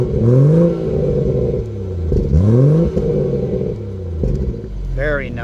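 A BMW M240i in Estoril Blue revs hard at the rear exhaust in two rising sweeps, with burbling crackle as each rev falls away and a short third blip, loud and close.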